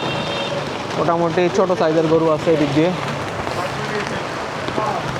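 Steady rain hisses throughout at the Shahjahanpur cattle market, with someone talking over it for much of the clip.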